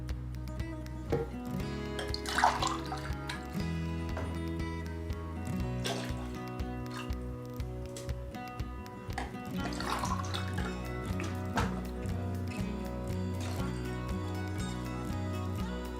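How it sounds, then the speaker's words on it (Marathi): Water pours steadily into a cooking pot for horse gram soup, a continuous splashing and gurgling with brief louder bursts, close by, no talking. "साधारण चार ग्लास पाणी टाकून घेणार आहोत"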